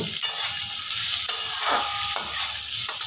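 A spatula stirs and scrapes fried rice around a hot pan in a home kitchen, with a steady sizzle underneath and soft, repeated scraping strokes, no voices.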